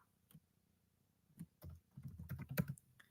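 Keys clacking in an irregular burst on a computer keyboard, a few isolated taps and then a denser run of keystrokes, close and fairly quiet with no talking.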